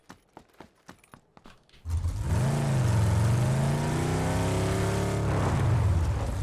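Vehicle engine in PUBG roars to life after a few scattered thumps, revving loudly with rising and falling pitch for several seconds, close and dominant with no talk over it.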